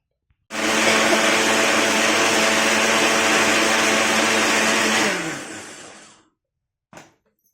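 Rasam ingredients for pani puri whirring in a mixer grinder, a loud steady motor roar that starts abruptly, runs about four and a half seconds, spins down, then gives one short final burst, with no talking.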